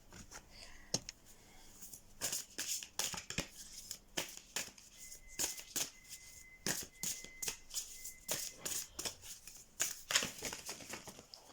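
Oracle cards of a heart-healing deck being shuffled by hand, a rapid series of crisp riffling and slapping bursts, close and fairly loud, with faint background speech.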